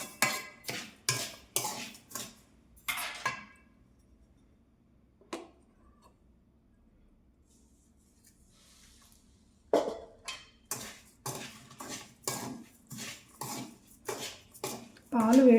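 A spoon stirs sugar into hot milk in a metal pot, giving a quick run of rhythmic clinks and scrapes, a quiet pause of several seconds, then another steady burst of clinking.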